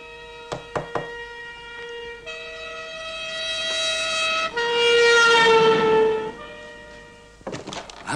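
Fire engines race through a town, a loud wailing siren with sustained tones rising and falling, drawing near and swelling before fading, with a few thuds and clatter at the start and end.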